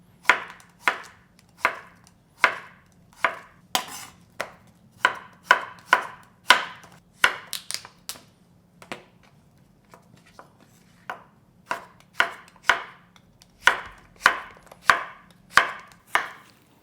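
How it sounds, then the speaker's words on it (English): A knife slices Korean zucchini diagonally on a cutting board, about a quarter inch thick. Crisp, evenly paced chops ring out close by, several dozen in all, with a short pause midway before the rhythm resumes. "You can cut just a slice disc style, and then but I usually use this way and diagonally."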